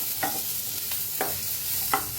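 Ingredients for Mysore dosa are lightly roasted in a pan. A few soft scraping stirs, spaced out, rise over a faint continuous sizzle.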